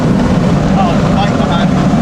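A motorcycle engine close behind the player in a Nürburgring racing video game holds a steady, loud drone, with a brief higher whine rising over it midway.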